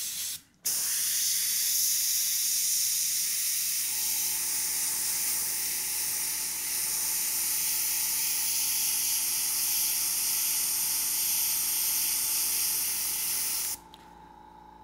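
An airbrush spraying white paint through stencils, a continuous close hiss that starts abruptly, holds steady for about thirteen seconds, then cuts off, with a faint compressor hum beneath.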